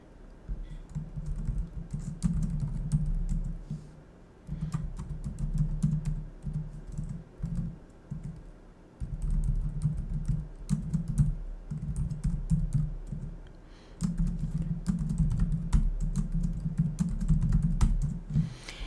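Computer keyboard typing while someone fills in an online notary sign-up form, close and clear bursts of quick key clicks separated by short pauses, with no voices.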